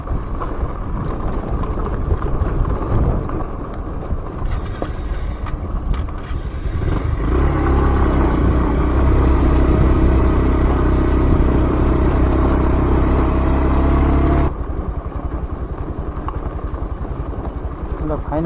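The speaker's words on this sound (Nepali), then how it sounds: "खडम छ, पानी भर्न जानु परेको छ बाइकमा" A motorcycle ridden along a village road to fetch water amid a water shortage, its engine droning steadily and loud, swelling to a strong close rumble midway before easing, with wind buffeting and a voice talking over it early on.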